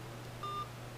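A telephone being dialed to place a call gives a few short, clear keypad beeps in quick succession over a low steady hum.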